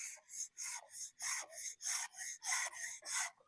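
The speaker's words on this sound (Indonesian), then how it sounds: "bagian yang tidak rusaknya juga tetap harus diamplas, dikelilingi" Sandpaper rubs around a damaged engine crankshaft to smooth it, giving about a dozen rhythmic back-and-forth rasping strokes, evenly spaced and close, with no talk over them.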